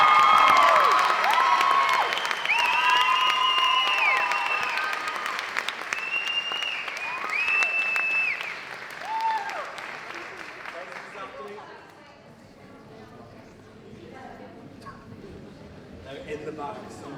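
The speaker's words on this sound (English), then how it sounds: "Give them another round of applause." A crowd at a youth arts festival awards night in Liverpool claps loudly, with whoops and high whistles over the applause. The sound gradually dies down to scattered clapping and murmuring voices.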